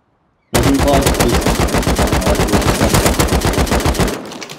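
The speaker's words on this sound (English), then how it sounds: "Oh, turret just targeted someone." A video game turret fires a long, rapid burst of gunshots, loud and continuous for about four seconds before cutting off, during an online raid on a rooftop base.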